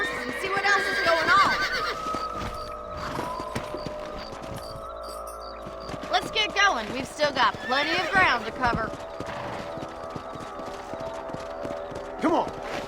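Horses clip-clopping as riders travel on horseback in the video game Red Dead Redemption, hoofbeats bunching into a brief trotting run midway, under someone talking.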